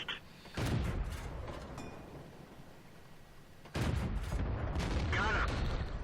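A Matilda IV tank gun fires on the Mines map in World of Tanks, two heavy booming blasts with long rumbling tails, loud and close, with game voice callouts over them.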